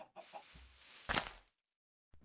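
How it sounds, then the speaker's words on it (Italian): A chicken in the Minecraft video game gives a few short clucks, close and clear, followed by a brief pause and one more quick cluck. "Che ci fai, gallina?"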